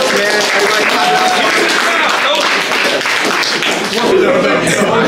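A group claps and cheers steadily for the winner of a knockout contest, Sac versus Stockton, with voices talking over the dense, continuous applause.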